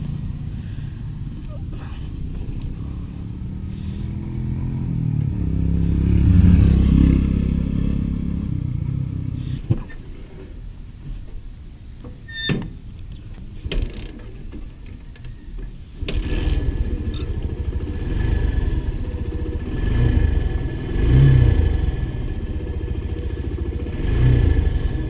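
A Suzuki GD110 motorcycle fitted with a new U-bend rides on a test drive, its mid-pitched engine rising and falling as it revs and settles, with a sharp knock near the middle and wind and road noise around it.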